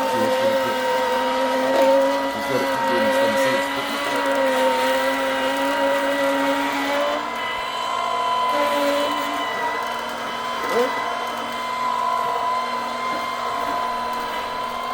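An OMMO cold press juicer runs steadily with a continuous motor hum and grinding drone, close and even in level throughout.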